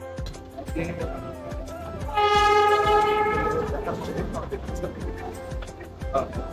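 The Darjeeling toy train rattles through town lanes with rhythmic clickety-clack, and a loud horn blast rings out near the middle over the steady running noise, with talking in the background.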